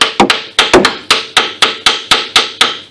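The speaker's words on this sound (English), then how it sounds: "Give the caliper some raps with something soft" A brake caliper on a 2003-2009 Kia Sorento takes about ten sharp raps with something soft, close and loud, in a quick, fairly even rhythm with no voices.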